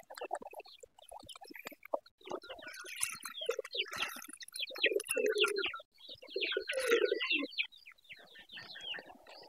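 Hybrid pigeons coo in their coop, low throaty coos overlapping with busy chirps and twitters from other birds, fairly close and continuous.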